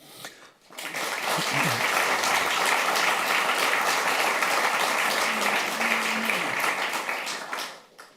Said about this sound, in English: very, very warm welcome to you, Mr. President, Mr. Ilves, and a warm applause to you